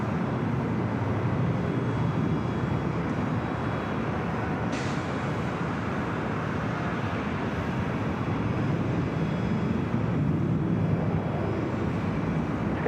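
Airliner engines roaring at Los Angeles International Airport, a steady loud broadband rumble sustained throughout, close and continuous with no pauses, with a brief sharp click partway through.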